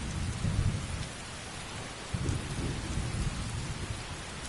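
Steady rain pours down in Skyrim Anniversary Edition, a video game, with deep rumbles of thunder rolling in twice, loud and close, with no voices.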